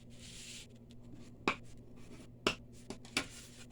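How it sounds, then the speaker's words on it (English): Cherry cobbler cardstock card base, 11 by 4 and scored at 5.5, being folded and creased by hand, with several sharp, crisp paper snaps and swipes over a quiet hum. "we're going to go ahead and fold that"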